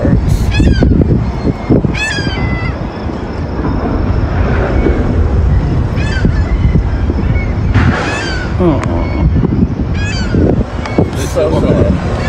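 Birds honk and call in repeated short bursts over a loud, continuous rumble of background noise on a hot day in Dallas, with voices talking underneath.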